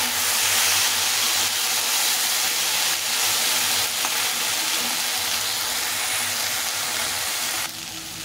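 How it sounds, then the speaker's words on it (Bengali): Food fries in a pan on the stove, giving a continuous broadband hiss that stays loud and even throughout and drops slightly just before the end. "সুন্দরভাবে ভেজে নিতে হবে"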